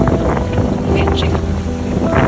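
A boat engine, one engine running at 2,500 RPM near the Dry Tortugas, drones steadily at close range, mixed with wind buffeting the microphone and the rush of water, with no pauses.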